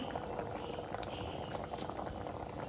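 Basale pundi, Tulu-style rice dumplings, boiling in a pot of water, giving a steady dense bubbling that stays even and close throughout, with no one speaking.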